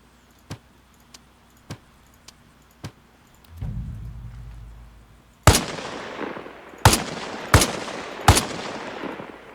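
Sharp M14 rifle shots in Arma Reforger: a series of faint, distant cracks at a steady pace, then a brief rumble, followed by four loud, close reports with reverberant tails, spaced about a second apart.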